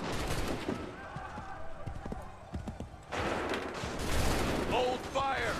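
Musket volleys from massed soldiers crackle in bursts in Assassin's Creed III, a ragged fusillade of gunfire under shouted commands and talking, loud and close with echoing scattered shots.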